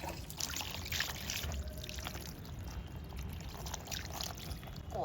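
Water pours and splashes steadily over a fresh, scaled 3 kg rohu fish being washed in a terrace kitchen, a continuous soft rushing close by.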